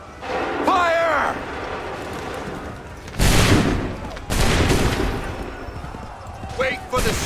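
Musket volleys crack out in Assassin's Creed III: a burst near one second, then two loud, close, sustained crackling fusillades around three and four seconds, with a commander's shouted orders heard between them.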